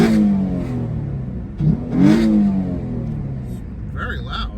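A 2007 Mitsubishi Galant Ralliart with an upgraded intake revs in neutral, the engine rising and falling in a couple of quick swells over a steady idle hum, close and fairly loud, with someone talking over it.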